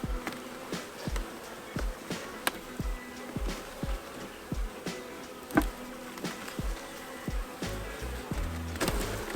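Honey bees buzz around an open hive during an inspection in Minnesota, a steady insect hum with many rapid clicks and knocks of frames and tools, close and fairly quiet with no talking.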